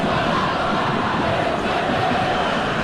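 Steady stadium crowd roar and applause from an eFootball video game match, a dense continuous wash of noise filling the whole stretch with no clear voices on top.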